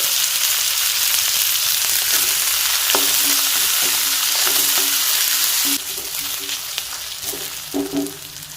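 Onions and dried chillies sautéing in a pan for a kadamba chutney, a loud continuous sizzle with occasional scrapes and clinks of stirring, the hiss easing slightly toward the end.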